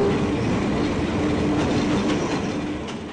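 A train rolls over the rails in Barangay Aklan, Manila, a steady loud rumble with clickety-clack of wheels and faint squeals, close by and continuous, gradually easing near the end.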